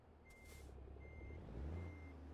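A truck in American Truck Simulator sounds three evenly spaced reversing beeps over a steady, loud low engine rumble.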